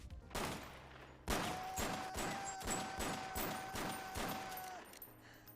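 Gunfire rings out in a scene from the comedy film Superbad as a rhythmic run of roughly a dozen loud, evenly spaced shots, joined by a sustained tone.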